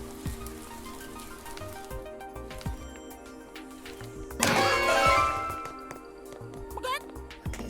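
Rain patters steadily in a video game, "Rain on Your Parade," under layered game music and effects, with a louder swell of rainfall midway.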